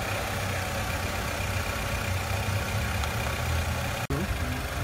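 A car engine idles steadily during a battery charger test, giving a continuous, even hum that is close and fairly loud, broken by one brief dropout near the end.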